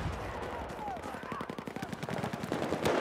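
An MG4 light machine gun fires in Battlefield 4, giving rapid, evenly spaced bursts of shots that keep a steady rhythm at a fairly low level throughout.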